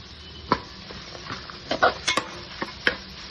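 A spoon stirs garlic chili powder into a pan of ponnaganti greens fried with chickpeas and green chilies, giving scattered light scrapes and clinks against the pan over a faint, steady sizzle.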